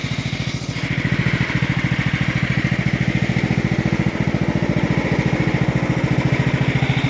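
A Bolens 13.5hp riding mower with a 38-inch deck idles nearby, a steady, rapid chugging putter that keeps an even rhythm throughout.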